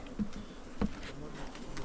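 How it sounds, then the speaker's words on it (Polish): A faint, steady buzz of calm honeybees at a hive hums in the background, with a couple of soft taps and no talking over it. "Fajna, spokojna pszczoła."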